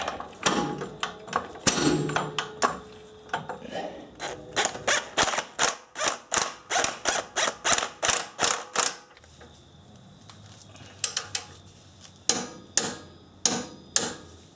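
Suspension bolts are torqued down with a ratchet on a car. The clicks come in rapid rhythmic bursts, close and fairly crisp, with pauses between runs and a short cluster near the end.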